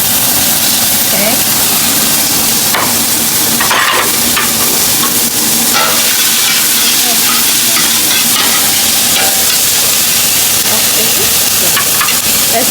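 Onion, pepper and garlic sizzle steadily in a pan for beef soup, a dense continuous frying hiss with occasional stirring scrapes and clacks, fairly loud and close.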